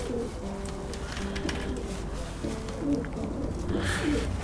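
A blue pigeon hen coos softly in a loft, low rolling calls repeating over steady background noise with faint bird chatter around.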